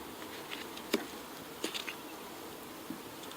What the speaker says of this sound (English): these bees are loud in here